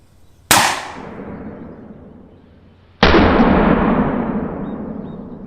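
A wind-powered air gun fires two shots in double shot mode, each a sharp loud bang with a long decaying tail, about two and a half seconds apart, with no talking.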